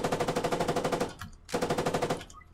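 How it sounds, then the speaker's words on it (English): Coaxial machine gun of an armoured MT-LB in the Squad video game fires two loud rapid bursts, the first longer, separated by a short pause with a fading tail. "This bad boy here has a coaxial machine gun, which is pretty handy, and can be used against infantry."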